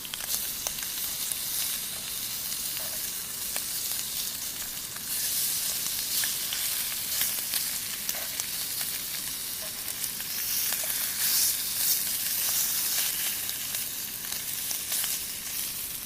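Dry cured smoked bacon frying outdoors at a carp fishing session, a continuous crackling sizzle with scattered pops, steady and close.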